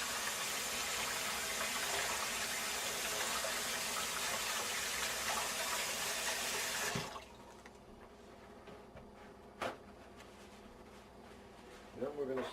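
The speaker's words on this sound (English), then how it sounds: "And then you use warm water to get that stuff off your hands." Warm water runs from a kitchen tap while hands are washed, a strong steady rush for about seven seconds before cutting off, followed by quiet room sounds and a couple of brief clunks.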